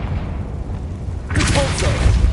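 A Confringo fire spell from the Hogwarts Legacy video game bursts into a loud, broad explosion partway through, following a low rumbling ambience; a voice calls out just before the blast.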